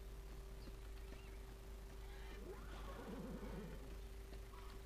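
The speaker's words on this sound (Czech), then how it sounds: "Ej, můj kůň." A horse in the riding video game Horsez 5 gives a wavering neigh partway through, over a steady bed of clip-clopping hooves and a constant in-game background hum.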